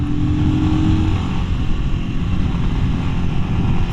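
A Royal Enfield Scram 411 motorcycle engine drones steadily under acceleration while passing a Toyota Corolla on the road, a continuous low rumble mixed with wind noise.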